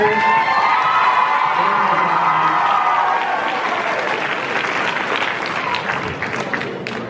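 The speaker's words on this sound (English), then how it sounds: "Give a big round of applause to all our contestants up here." Audience at a high school pageant-style show applauds and cheers for the contestants, loud clapping with whoops and shouts from young voices that gradually eases off.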